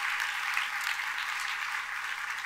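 An audience in a church claps together in a sustained, even round of applause. The applause is moderately distant and stays steady throughout, with no talking over it.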